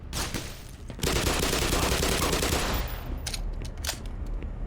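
Sustained automatic gunfire from the shooter game Black Mesa rattles in a dense, rapid burst lasting several seconds, loud and close, with a few separate shots trailing off at the end.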